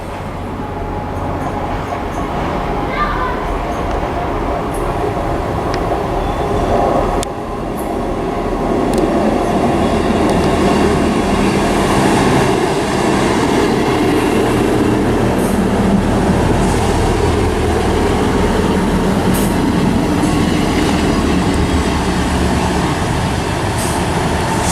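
ScotRail Class 158 diesel multiple unit at Stirling station, a loud continuous rumble of engine and wheels rolling past close by, with rail clatter and faint squeals throughout.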